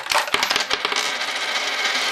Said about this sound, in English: Then all I have to do is shake out the coins.